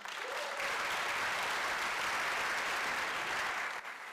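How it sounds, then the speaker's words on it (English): Loud, dense applause from a conference audience at the opening keynote of a travel bloggers' event fills the whole stretch, a steady wash of many hands clapping together. "Can we give a huge round of applause?"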